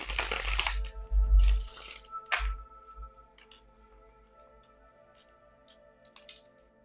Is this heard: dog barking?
no